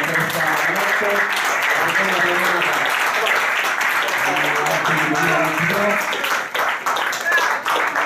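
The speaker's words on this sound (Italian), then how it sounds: "Un applauso." Loud, continuous audience applause at an award ceremony, many hands clapping steadily, with voices talking over it for much of the time before it thins out toward the end.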